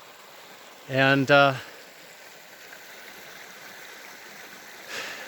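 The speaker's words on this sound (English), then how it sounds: "We want to go across the creek and up this hill" A mountain creek flows in a steady, close rushing wash throughout, with someone briefly speaking over it outdoors.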